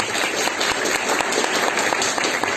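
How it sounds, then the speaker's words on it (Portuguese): Steady applause fills a church congregation welcoming a pastor and his wife at a Sunday morning service, dense clapping continuing throughout without talk. "Então eu queria que você recebesse com uma salva de palmas"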